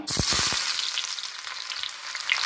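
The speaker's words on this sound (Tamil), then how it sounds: "கடாயில நம்ம வந்து நறுக்கி வச்சிருக்க வெங்காயத்தை சேர்த்துக்கலாம்." Onions hit a hot pan with a loud sizzle and a few clattering stirs, then the frying settles into a steady crackle.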